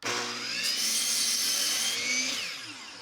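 A power saw cuts wood for a simple wooden planter, a loud sustained whining buzz that rises in pitch and then winds down over about three seconds, close and alone.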